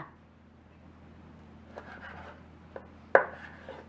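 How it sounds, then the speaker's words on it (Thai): A few sharp knife cuts land on a cutting board against quiet room noise, the last one loudest, followed by a soft scraping slice as pork is cut into strips. "แล่ออกมาเป็นแผ่นๆก่อนนะจากนั้นก็หั่นให้เป็นเส้นยาวค่ะ"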